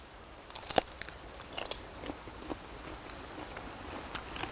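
Someone bites into a crisp apple jujube grown in a greenhouse, giving several sharp crunchy snaps and chewing crackles, close and quiet over a faint background.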